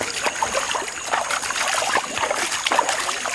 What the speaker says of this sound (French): il faut prier pendant que tu vas rincer ton corps